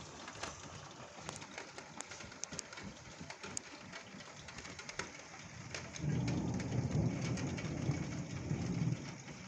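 A moderate, highly electric thunderstorm in Calvados, with steady rain pattering on surfaces and a deep rolling rumble of thunder swelling in the second half; no voices.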